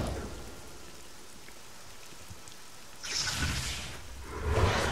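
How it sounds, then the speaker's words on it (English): Storm audio in the game DC Universe Online: steady rain hiss throughout, with a louder rumbling swell of thunder or gusting wind near the middle and another building surge at the end. "It's a storm."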